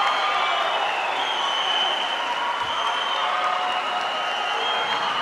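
A crowd at a judo match at the 2015 European Youth Olympic Festival in Tbilisi applauds and cheers in a dense, continuous roar of clapping that fills the hall without pause.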